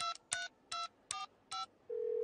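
A telephone number being dialed in a French animated cartoon, five distinct touch-tone beeps spaced at an even pace, followed by a steady ringing tone that begins at the end.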